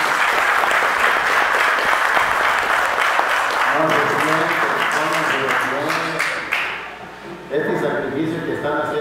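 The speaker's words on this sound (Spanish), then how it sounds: "vamos a darle un fuerte y caluroso aplauso a Sofía Bellín." Warm applause from a crowd at a child's third-birthday presentation ceremony, dense clapping that fades in the second half as a voice speaks over it.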